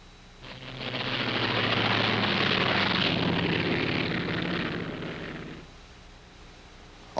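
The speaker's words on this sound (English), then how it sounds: "Although the P-47 was designed primarily as a fighter plane" A P-47 fighter plane roars past, its broad engine noise swelling over about a second, holding steady, then fading away, loud and alone.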